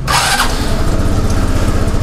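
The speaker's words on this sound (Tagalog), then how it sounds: "Pag switch mo pa lang na engine, ramdam mo na may power tong motor na to." An FKM Slick 150 motorcycle engine starts with a short starter whir, then settles into a loud, close, steady idle with a rapid low throb and no talk.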